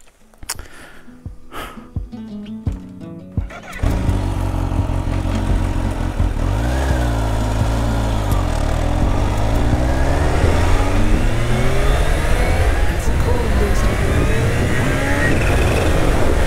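A Kawasaki Ninja H2 SX motorcycle fires up after a few quiet clicks and knocks, then holds a loud, steady engine drone with rising and falling revs close by, and no voices.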